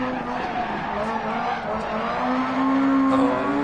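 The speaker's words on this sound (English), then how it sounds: "Oh, so much understeer." Tires squeal steadily as a rallycross car understeers through a corner in the DiRT Rally video game, engine droning underneath and the squeal rising louder toward the end.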